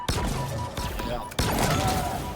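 Rapid bursts of gunfire from the video game Halo Infinite crackle continuously, dense and loud with a sharp break partway through, mixed with game effects.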